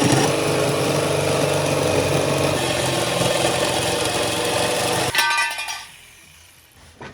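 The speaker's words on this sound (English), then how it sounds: "So just need to make one cut with the jigsaw across here." A jigsaw cuts across a metal panel of a Land Rover Defender, a loud, harsh, steady buzzing rasp that runs for about five seconds, then sputters and winds down to near silence.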